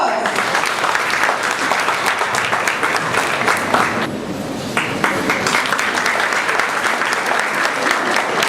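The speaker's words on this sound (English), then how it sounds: "Please welcome them with a big round of applause." An audience at a school talent show gives a loud, sustained round of applause for nursery performers, with a brief dip midway before the clapping continues.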